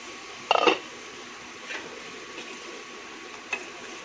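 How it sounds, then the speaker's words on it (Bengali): A metal lid lifted off a pot of cooking lentils, a sharp clattering scrape followed by a few faint light clinks against a quiet kitchen background. "ঢাকনাটা সরাইয়া নিম।"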